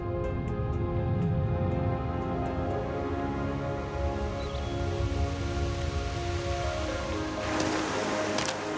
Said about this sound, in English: Unfortunately, the respite from the rain is all too brief.